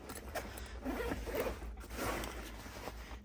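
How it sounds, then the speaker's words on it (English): The top zipper of a range bag is pulled open, a close, quiet rasping run that surges twice over a few seconds with no talking. "And then up here at the top, another zipper."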